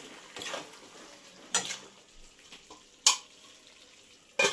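Bengali-style chicken curry with salt is sautéed and stirred in a pot. A spatula scrapes and knocks against the metal in sharp, irregular strikes over a faint sizzle, with no talking.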